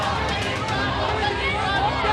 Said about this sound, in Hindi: इस रोड शो के दौरान हर तरफ मोदी मोदी और अब की बार 400 पार का शोर